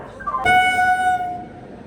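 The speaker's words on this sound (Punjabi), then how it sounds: "ਆਪਣੀ ਟ੍ਰੇਨ ਆ ਜਿਹੜੀ ਪਹੁੰਚ ਗਈ ਆ ਪੂਰੇ ਲਾਈਟ ਟਾਈਮ ਤੇ" A train horn blares in one long, loud, sustained note after a short higher tone, then fades as the train pulls into a station.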